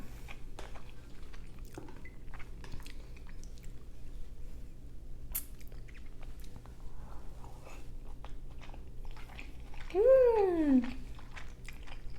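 Egg white is chewed and bitten during a mukbang meal, with faint, soft, close moist bites and smacks scattered across a quiet background and a brief squeaky tone near the end.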